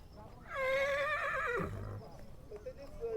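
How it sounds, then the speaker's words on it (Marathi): At Table Land, Panchgani, a horse gives one clear, quavering whinny lasting about a second. It is followed by a soft snort and faint outdoor background. "इकडच्या बाजूला घोडे आहेत"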